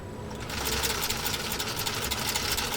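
Pfaff 332 sewing machine fitted with a walking foot stitching a single layer of genuine cowhide leather, running at a slow, steady pace with a continuous rapid mechanical chatter that starts after a brief quieter moment and stays close and loud.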